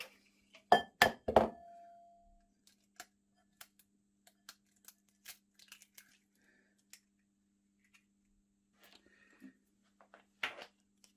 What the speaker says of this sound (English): so we get our 2 eggs. Crack them, put them into the bowl there.